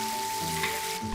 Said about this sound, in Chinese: 熱油炒香配料